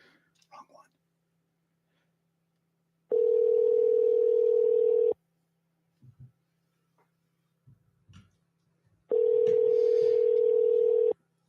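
Steady telephone dial tone after a call is hung up, sounding in two loud sustained stretches of about two seconds each, with faint murmurs and small noises in the quiet between.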